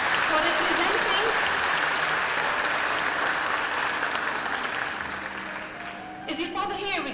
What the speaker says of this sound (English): Please give her a big clap for this talent, for representing.